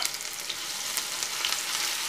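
Onion fries in a pan with a soft, dense crackling sizzle, fairly faint and continuous for a couple of seconds, with no talking.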